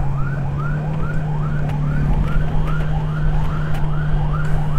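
A wailing ambulance siren cycles rapidly in repeated rising sweeps, loud and close, over a steady low engine drone, on a village street.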